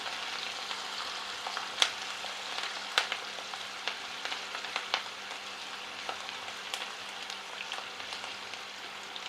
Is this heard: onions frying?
yes